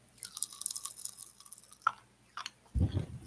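Lychee-flavoured popping candy eaten close to a microphone, with soft crackles and wet mouth clicks scattered over a few seconds, then a louder crunchy burst near the end.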